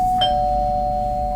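A doorbell chimes once, a clear sustained electronic tone ringing out and fading slowly in a quiet room.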